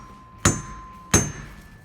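A dead blow hammer taps a wheel bearing race into place twice, two sharp, close, evenly spaced knocks with brief ringing decay.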